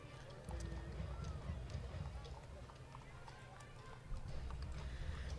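A group of horses walks in the Central Kansas Free Fair parade in 2014, their hooves making faint, steady clip-clops amid outdoor crowd noise and general street ambience.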